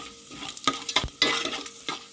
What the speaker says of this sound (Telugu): ఇవైతే లైట్గా ఫ్రై అవ్వాలి.